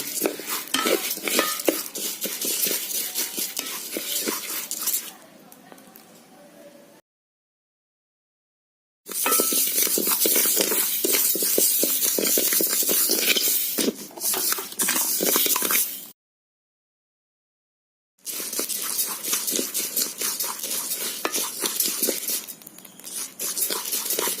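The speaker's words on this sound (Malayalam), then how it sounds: "അരി വറുത്തുകൊണ്ടിരിക്കുന്നു" A utensil stirs and scrapes rice roasting in a dry pan for wheat and rice laddu, in steady bursts, with a light rattle of grains, broken by two short silences.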